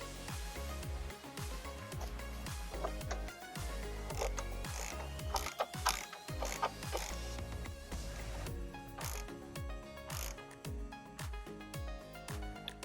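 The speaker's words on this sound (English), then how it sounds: "Then we put the bolt back into the bottom of the bowl. Then we tighten that one up." Rapid ratchet clicks in repeated short bursts as a bolt is tightened into the bottom of an engine carburetor bowl fitted with a rubber washer, close and fairly loud with no talk.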